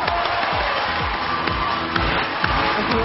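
A television talk show's studio audience cheers and applauds in a dense, steady crowd roar with scattered shouts, loud and sustained throughout, as special guests Li Baotian and his son are welcomed onto the stage.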